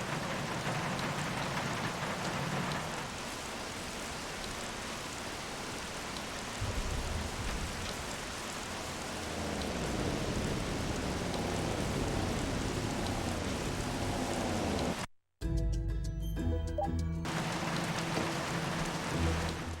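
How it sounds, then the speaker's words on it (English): Steady rain falls in the Bee Movie video game, a dense, even hiss that continues for the whole stretch. A brief dropout near the end leaves a short silence, and then the downpour resumes. "now we're back in the goddamn rain"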